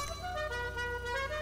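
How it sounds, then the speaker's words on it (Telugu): A car horn in the video game GTA 5 sounds as one sustained, steady tonal honk lasting the whole moment, fairly faint and alone. "చలో ఈ హారన్ ఓకే"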